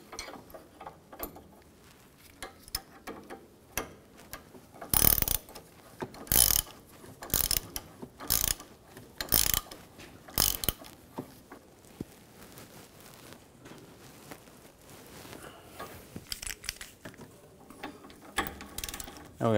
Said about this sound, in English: Get the nut started. Start tightening that down.